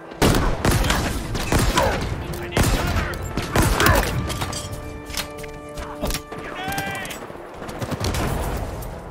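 Gunfire in the video game Halo Infinite, with repeated sharp shots and bursts scattered through the stretch, some loud and close, mixed with thuds and tonal game effects, and a player talking over it at times.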